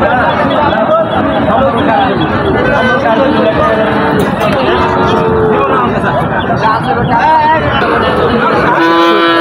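A Sahiwal bull, sold as a farm-suited animal at a border-area cattle market, moos repeatedly amid constant loud crowd chatter and livestock noise, with drawn-out lowing calls rising above the babble.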